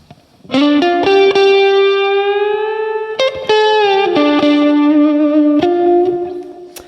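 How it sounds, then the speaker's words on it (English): Distorted electric guitar notes slide smoothly up and down in pitch, sustained bends separated by a few picked attacks, played alone and up close. "we bend up into a note and bend down into a note"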